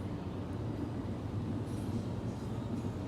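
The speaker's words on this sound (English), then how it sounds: "Looks like there's a freight train coming by here." Long freight train rolling past at night in Miami, a steady low rumble and clatter of wagons close by, continuous and unbroken throughout.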